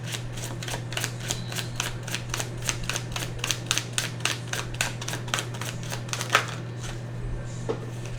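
An Evolution of the Soul Oracle card deck is shuffled in a steady run of quick, crisp clicks close by over a low hum, the rhythm stopping abruptly near the end.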